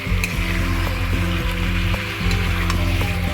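Chicken for chicken kosha stir-frying in a pan, a loud continuous sizzle with stirring scrapes and clinks across the whole stretch, no voices.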